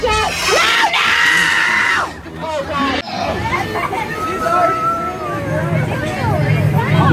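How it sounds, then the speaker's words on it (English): A small child screams loudly and repeatedly amid crowd babble and chatter, with adults talking nearby in a busy, echoing public space. "She's already screaming."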